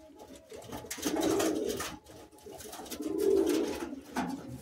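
Andhra pigeons, green Madrasi high-flying birds, coo in low rolling phrases that swell twice, close by with no talk over them.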